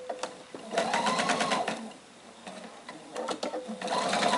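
Sewing machine stitching fabric and batting on a small bowl holder project, several short bursts of rapid stitching separated by brief pauses, close and clear with no talk.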